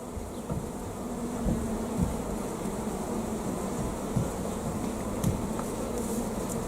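Honey bees from a beekeeper's hive buzz steadily, a dense continuous drone close by with a few brief louder passes, no voices.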